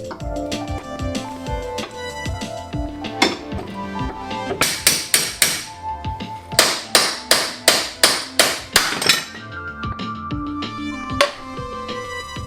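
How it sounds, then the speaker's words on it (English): Sharp metallic hammer blows on a pickle fork driving out a ball joint on a 2000 BMW Z3 suspension ring out in bursts, a quick series of rapid strikes midway and isolated hits around them, close and loud over a faint background. "we're gonna get back in there with the pickle fork and hammer on it until it falls out"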